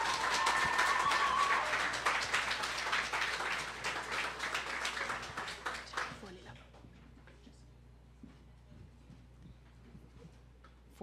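Audience applause at a Université de Sherbrooke event, a dense burst of clapping that fades gradually over several seconds into sparse claps and quiet room noise.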